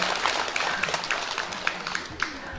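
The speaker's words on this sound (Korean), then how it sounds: "다시 한번 감사의 박수와 부탁의 박수 부탁드리고요" Applause from the crowd at a Korean county volunteer festival, a loose, fairly thin clatter of hands clapping in a large space, with scattered louder claps and a faint murmur of voices underneath.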